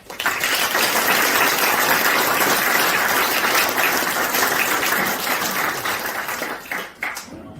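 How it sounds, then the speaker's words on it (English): Guests at a Fun Valley Athletic Club reception applauding Mark English for his European Championships 2022 bronze medal, a dense, loud round of clapping that holds steady for several seconds before thinning and tailing off. "So a round of applause to you there, Mark."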